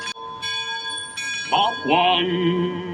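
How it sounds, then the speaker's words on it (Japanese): A ship's metal bell rings several times at Disneyland in Anaheim, sharp ringing strikes that sustain and decay, ending in a brighter, sustained tonal passage. "鐘を鳴らしてます。"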